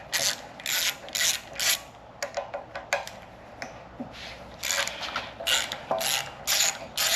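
Bursts of ratchet wrench clicking as bolts are removed from a golf cart electric motor, quick repeated ratcheting runs separated by short pauses, close and clear.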